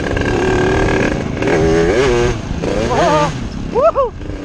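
A 125cc motorcycle engine revs and pulls away, pitch rising and falling through gear changes, loud and close, with voices partly underneath.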